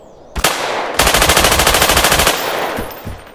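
Rapid automatic gunfire in the video game Garry's Mod: a single sharp shot, then a loud sustained burst of machine-gun fire lasting over a second, followed by a few scattered trailing shots.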